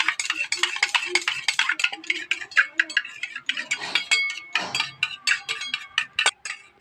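A spoon stirs coffee paste made with warm water in a cup, giving a quick run of bright clinks and scrapes against the sides, close and fairly loud, with a brief pause midway.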